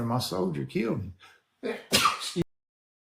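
Someone talks briefly, then a single loud, sharp sneeze bursts out close by, ending abruptly in silence.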